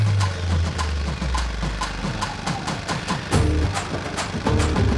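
A motorcycle engine runs with a rapid, rhythmic low thumping pulse, loud and close. Sharp periodic clicks ride over the beat, and the engine revs up slightly near the middle and again toward the end.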